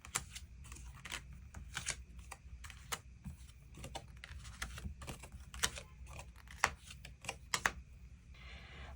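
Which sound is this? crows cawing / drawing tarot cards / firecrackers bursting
drawing tarot cards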